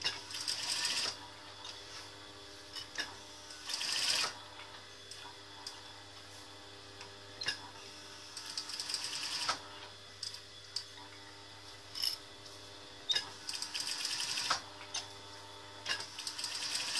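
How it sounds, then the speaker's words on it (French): A sewing machine stitches fabric 1 mm from the edge around a star shape on a pouch: a fast, steady mechanical whir and needle ticking, close and continuous, with brief pauses and louder bursts. "je pique à 1 mm tout le tour"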